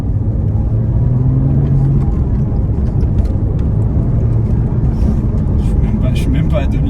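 Engine note of a Porsche Cayman 987 phase 1 with naturally aspirated engine and manual gearbox, pulling under acceleration at low revs; steady loud cabin rumble with a faint rising harmonic, people talking over it throughout.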